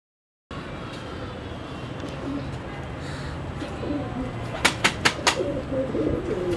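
Pigeons in a loft coo softly through a low, continuous murmur of background noise, and then a quick cluster of sharp wing flaps bursts out near the end.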